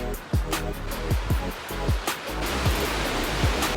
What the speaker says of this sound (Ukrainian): Ми приїхали побачити водоспадики.